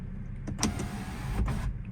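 A BMW sunroof motor whirs briefly as the roof tilts open to vent, a faint electric hum with a couple of soft mechanical clicks, close by inside the car.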